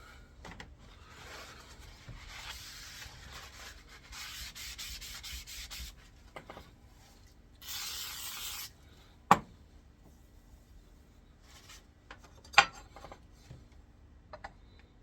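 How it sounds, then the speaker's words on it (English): A wood plane blade is rubbed back and forth on an old whetstone in quiet, scraping strokes of a few seconds each, with occasional sharp clicks and knocks between passes and no talking. "Give Grandpa's whetstone some love here."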